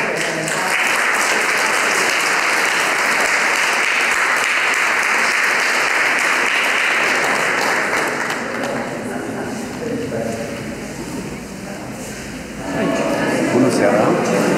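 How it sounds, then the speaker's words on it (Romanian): A crowd at an art exhibition by school art teachers in the Casino Gallery, Cluj-Napoca, applauds in a loud, sustained wave of clapping that runs for most of the clip, thins slightly near the end and then swells again. "vă rog încă o dată să-i aplaudați pentru că merită efortul"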